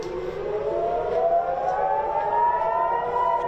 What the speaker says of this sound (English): we had sirens sounding over Tel Aviv